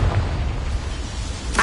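A Confringo fire spell in Hogwarts Legacy bursts with a loud low boom that rumbles through the space, followed by a steady roar that ends in a sharp burst.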